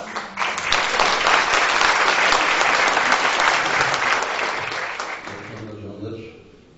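A crowd at a folk music night welcomes a poet with loud, dense applause that holds for about five seconds, then fades as a voice begins speaking at the end.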